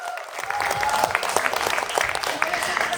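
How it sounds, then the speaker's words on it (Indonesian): Dense, lively applause from an audience at a Kartini Day women's event in Indonesia, rising after a brief quiet start and sustained under faint voices. "Tepuk tangan untuk kita semua, perempuan-perempuan hebat."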